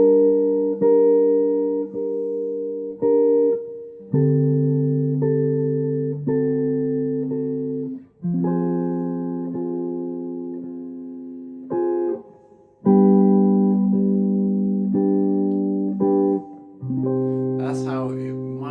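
Guitar chords from an arrangement of a theme, a sequence of sustained chords strummed one after another with steady ringing tones, clear and close with no talking.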